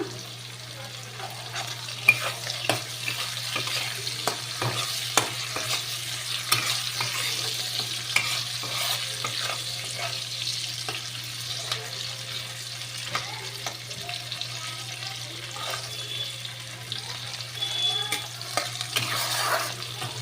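A tomato frying and being stirred in a pan makes a steady sizzle, with repeated scraping stirs throughout and a constant low hum underneath; no one talks.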